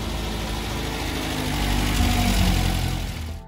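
A car engine idles steadily during an engine flush, a close, continuous low rumble that swells slightly midway and then cuts off abruptly at the end, no voices.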